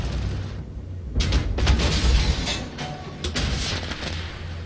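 Repeated heavy cannon reports from the Italian Centauro 120 wheeled tank destroyer in Armored Warfare, several booming shots and impacts spread over a few seconds against a rumbling low battlefield background.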